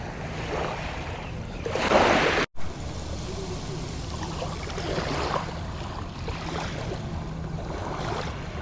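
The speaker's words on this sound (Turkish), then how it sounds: "O suyla deniz kabuklarının birleşmesine çıkardığı bir ses var" Sea water washing over seashells on the shore of a Japanese island, soft gentle swishes and trickles with a brief louder wash near the start and one sharp dropout, calm and close.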